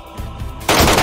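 Heavy gunfire in a shooter video game, erupting suddenly after a short quiet lead-in as a loud, dense burst of shots that fills the rest of the moment.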